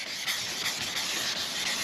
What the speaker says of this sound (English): You can see we need a little more sanding right in there.